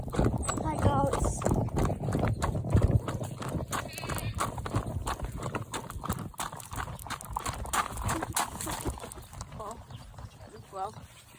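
Horse hooves clip-clop at a steady trot on the ride home after a tack-up, close and continuous, with a rider talking over them and goats bleating now and then.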